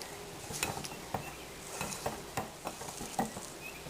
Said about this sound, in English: you want to stir this to combine it